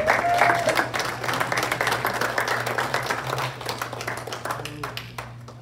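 A congregation at a youth church service claps and cheers for Sister Easter, lively applause that is loudest at the start and gradually thins out, with voices mixed in and a steady low hum beneath.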